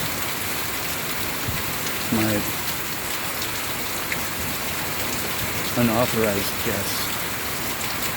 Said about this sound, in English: I think it's just straight up rain from here on out.